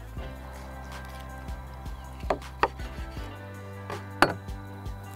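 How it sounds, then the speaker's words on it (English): A knife cuts through a frenched ten-rib Cheshire pork rack on a board to separate it into chops, giving a few sharp chopping thuds and clicks spread out over a low background hum. "we're gonna cut these into individual chops now and just come right down"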